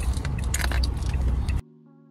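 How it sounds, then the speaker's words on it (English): A bunch of keys jangles in a brief, close metallic rattle for about a second and a half, then stops abruptly, leaving only a faint steady hum. "these are my keys"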